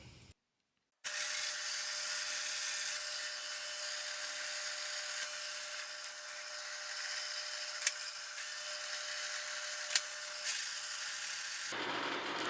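A DIY CNC drill press runs a steady high-pitched whine while drilling a 32 mm hole pattern, a constant tone after a brief silence with a few sharp ticks along the way.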